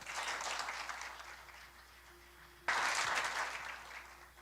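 Church congregation applauding during a Spanish-language service, a moderate wash of clapping that softens, then swells louder again partway through.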